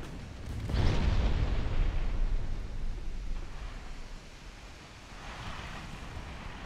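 Torpedo explosions in the naval warfare game Ultimate Admiral: Dreadnoughts: a heavy, rumbling blast swells near the start and slowly fades into a steady wash of ocean surf and wind, with a second softer burst later.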